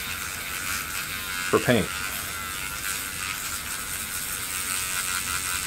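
A Mr. Polisher Pro sanding a 3D-printed resin part gives off a steady high whir through the whole clip, with a brief spoken phrase near the start.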